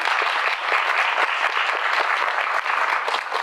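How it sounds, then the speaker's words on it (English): Audience applause welcoming a panel guest at a film panel discussion, a steady dense wash of many hands clapping close by throughout, with no talking over it. "We'll give him a nice little clap."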